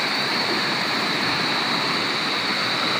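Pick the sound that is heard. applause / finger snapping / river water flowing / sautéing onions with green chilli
river water flowing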